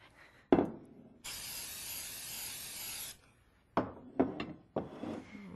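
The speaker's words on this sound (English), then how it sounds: "we're going to spray our pan with nonstick spray." A short hiss of aerosol spray lasts about two seconds, framed by knocks and clatters of a pan and utensils on a counter, close and quiet.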